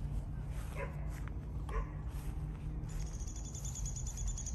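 A six-week-old puppy giving a few faint, high yips and whimpers over a steady low background hum, with a thin whining tone toward the end.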